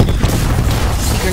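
Explosions from a cluster grenade in the video game Black Ops 4 rumble as loud, dense low booms that fill the whole moment with continuous blast noise.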